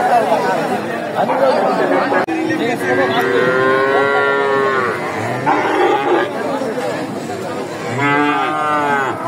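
Improved-breed heifers at the Dakumara cattle market in Bogura give repeated loud, drawn-out moos close by, some overlapping. Steady crowd chatter runs beneath the lowing throughout.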